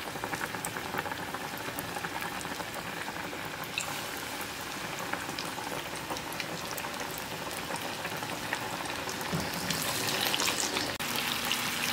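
Dense, steady sizzling and bubbling of boneless chicken thighs deep-frying in a pot of hot oil, loud and close, with no voices.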